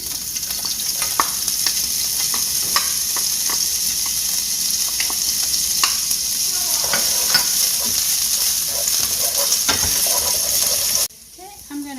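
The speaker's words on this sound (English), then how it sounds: "we are going to add our onion mixture in there" An onion mixture sizzling in olive oil in a hot pan for keto spaghetti, a loud steady frying hiss with scattered clicks of stirring, close by, cutting off abruptly near the end.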